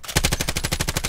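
A rapid burst of automatic gunfire from the Call of Duty Warzone video game, about a dozen evenly spaced shots in a second, fairly loud and alone without talking.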